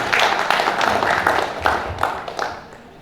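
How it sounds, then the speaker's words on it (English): Audience applause after a lecture on information and communication technology at NIHORT, a steady wash of clapping from a room of listeners that fades out toward the end. "A round of applause for her."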